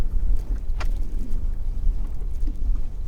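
A sailboat glides under sail alone on Loch Craignish with the engine off, giving a steady low rush of wind and water against the hull and faint creaks, continuous and fairly loud throughout.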